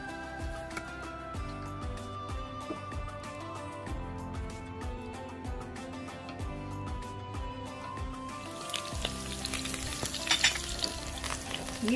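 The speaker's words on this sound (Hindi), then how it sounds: "ये हम इसका ऊपर का हल्का सा तड़का तैयार कर रहे हैं।" Whole spices for a tadka temper in hot oil, sizzling and crackling in a steady frying hiss with popping bursts that grows louder and more intense toward the end.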